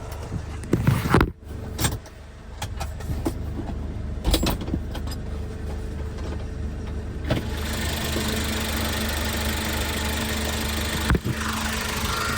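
Engine of a 2021–22 Hyundai Porter 2 truck running at idle, a steady loud drone with clunks and rattles early on, then a smoother continuous hum, with no talking.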